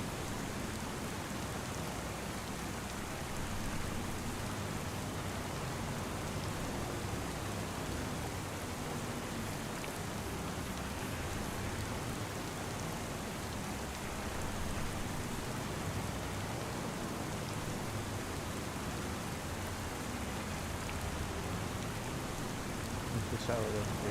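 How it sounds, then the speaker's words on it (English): Steady, dense rainfall in the video game Farming Simulator 25 hissing evenly throughout, a constant wash of drops with no pauses, fairly loud and close. "because it's raining."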